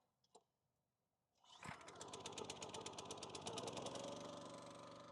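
A gas engine on an Oregon 3000 series log splitter gives a faint click, then catches after a pull and settles into a loud, steady, fast-chugging run close by.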